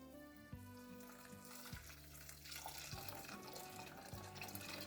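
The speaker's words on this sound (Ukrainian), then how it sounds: "Я закип'ятила собі окріп і заливаю." Boiling water poured over porridge grains in a kitchen, a soft continuous trickle and splash running steadily under low background noise.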